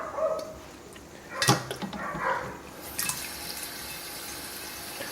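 Cool tap water runs into a brewing pot in brief gushing bursts with splashes, mid-level and close, with no voices.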